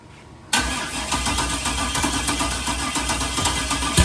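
A Nissan 240 engine with no header gaskets cranks and catches after a quiet start, breaking into a loud, rough, uneven running rumble that holds and stutters, close by with no talk.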